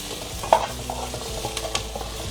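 Onions frying in a pot on the stove while being stirred continuously for a soup stock, giving a soft steady sizzle with a few light scraping clatters of the spoon.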